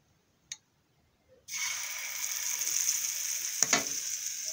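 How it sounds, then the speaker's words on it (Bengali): A potato egg chop coated in besan batter drops into hot oil in a wok after a brief clink, then a loud, close, continuous sizzle with crackling bursts takes over and holds to the end. "এটা ভাজা হচ্ছে"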